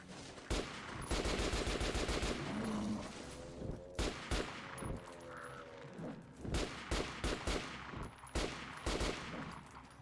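Rapid bursts of gunfire from a weapon in Metro Last Light, loud and close, firing in repeated volleys with brief pauses between them across the whole stretch.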